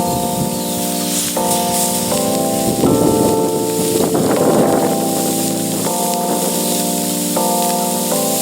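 Smash burgers sizzle on a Camp Chef FTG600 flat-top griddle, a steady broadband hiss running beneath louder tonal music throughout.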